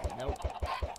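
Chickens in the video game Minecraft cluck in a quick run of about five short, evenly spaced clucks, fairly quiet, with a player's voice faintly audible nearby.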